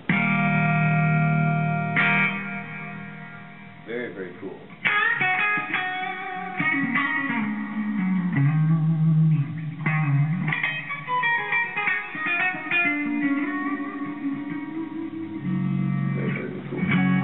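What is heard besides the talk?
guitar with hall reverb pedal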